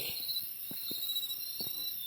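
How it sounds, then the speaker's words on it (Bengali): Crickets chirp at night beside a hilly road, a steady high-pitched trill running unbroken through the whole stretch, with a few soft low thumps underneath. "চারিপাশে ঝিঝি ডাকছে"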